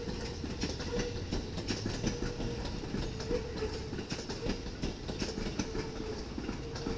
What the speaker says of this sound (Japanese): 手前に見えるのがこの西明石で折り返して前原京都方面に参ります電車です